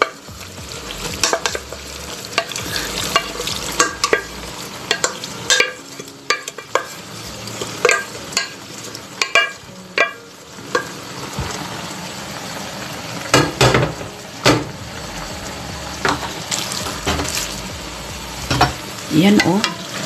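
Flat rice noodles for pad see ew stir-fried in a hot pan, with loud sizzling and repeated scraping strokes of a spatula coming in irregular bursts over a steady frying hiss.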